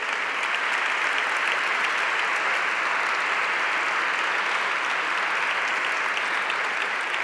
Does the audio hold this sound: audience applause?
yes